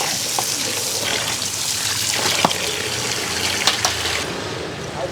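Water splashes and trickles steadily as it is poured out, close by, with a few sharper drips and clatters along the way.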